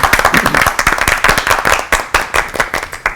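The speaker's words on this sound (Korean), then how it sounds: "박수로 청해 드릴게요." An audience at a church revival service breaks into applause, a brisk run of distinct, fairly close handclaps keeping a loose, uneven rhythm.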